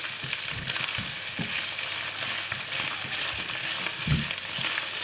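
Onions fry in a hot karahi with bay leaves, a steady close sizzle broken by scraping stirring strokes and occasional soft thumps, no voices.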